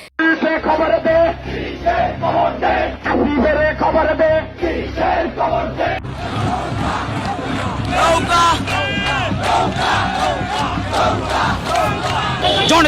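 Crowd chanting at a forty-eight-hour hartal protest march by Dhaka North Awami League, loud rhythmic group shouts and slogans, with a lead voice calling and the crowd answering, growing denser and more cheering partway through.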